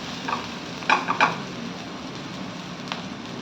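Pasta tossed in a hot pan with Indian-style tempering spices, a soft continuous sizzle with a few sharper scraping stirs of a spoon against the pan, close and alone.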